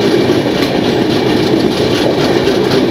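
The Saraighat Express runs at speed on the Howrah–Guwahati line, a loud, continuous rumble and clatter of carriage wheels on rails, close and alone with no voices.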